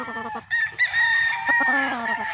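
A gamefowl broodcock crows once, loud and close, a harsh, drawn-out call with a long, held middle, with a faint clucking just before it.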